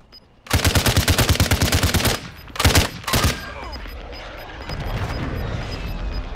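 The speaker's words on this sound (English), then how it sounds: "Hearing gunshots and shit." Automatic weapon fire in Call of Duty: Modern Warfare II: a long rapid burst, a pause, then two short bursts, followed by a rumbling explosion-like wash and steady background noise.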